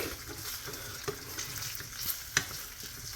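An egg sizzling in grease in a pan, a steady soft crackling fry with a few sharper pops, quiet and close with no voices.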